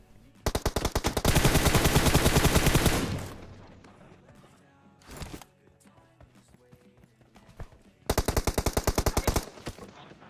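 Automatic gunfire in the mobile battle-royale game PUBG Mobile, with two long, loud rapid bursts of shots separated by quieter gaps and a short burst in between.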